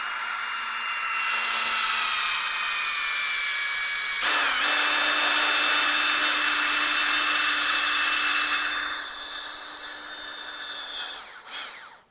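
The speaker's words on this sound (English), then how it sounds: "just take a 1/2-inch drill and drill it out." A 1/2-inch power drill bores out a golf iron's ferrule held tight in place, a sustained high whine that shifts pitch as it bites, with a brief break midway before it continues and winds down at the end.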